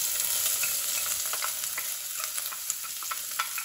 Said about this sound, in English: I have a little bit of canola oil in here, and it's actually ready for me to drop the onion in here